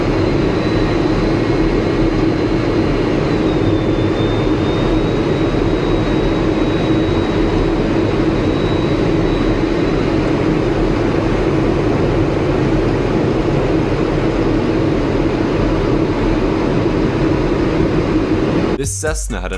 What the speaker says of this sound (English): This is what flying really close to the ground looks like from the cockpit of an F-16.